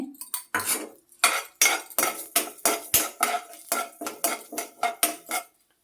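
Urad dal, added after the sesame, is roasted with a little oil in a pan, with a spoon scraping and clinking against the metal in a steady rhythm of about a dozen sharp strokes.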